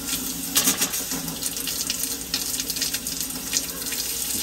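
Cold water runs steadily from a tap during a water main repair job, a continuous close splashing stream with small gurgling fluctuations and no talking.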